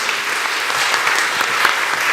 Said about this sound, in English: Now you can clap for these folks.